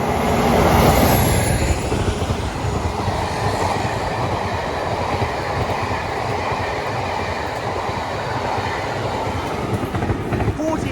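West Coast Railways train passing on the North Staffordshire Railway, a loud close rumble with clattering wheels and a brief high squeal at the start, swelling then holding steady, with a voice talking briefly.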